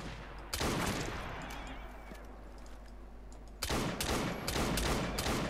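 Pistol gunfire in Assassin's Creed Syndicate, loud close bursts of shots that open sharply, fade into a rumbling tail, then return as a dense rapid volley near the end.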